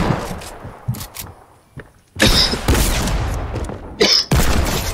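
Loud, close gunfire in a shooter video game: scattered shots early, then dense sustained bursts of firing with a short break, under the noise of a chaotic match.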